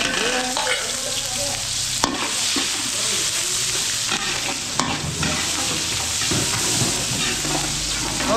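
Garlic sizzles steadily in a hot pan while a utensil stirs and scrapes it in irregular strokes, close and continuous.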